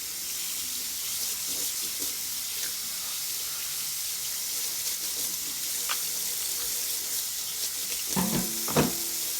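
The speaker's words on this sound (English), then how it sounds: "Turn the water up full blast." Steady broadband rush of tap water pouring hard, with a few clinks and clatters of dishes near the end.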